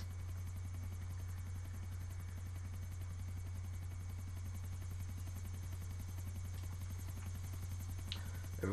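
A helicopter's steady rotor thrum drones continuously at an even level, with a constant low hum underneath, in the video game GTA IV: The Ballad of Gay Tony.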